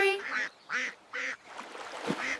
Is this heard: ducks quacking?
yes